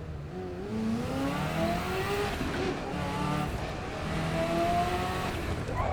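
A race car engine in the video game Assetto Corsa EVO revs up and down through gear changes, rising whining pitch sweeps repeating across the lap, fairly close and steady with no voices.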